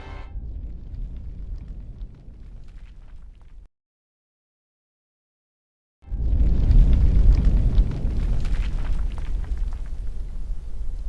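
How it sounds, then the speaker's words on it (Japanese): An anime explosion sound effect: a deep, loud boom rumbles for several seconds, cuts to silence, then returns as a heavier, roaring blast with crackling debris. "この爆発音、実はアニメでもちゃんと鳴っていたのですが"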